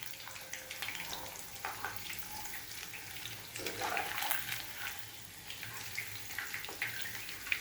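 Chicken lollipops sizzle and crackle in a pan after being flipped, a steady, watery hiss with scattered pops and light clinks, close and fairly quiet.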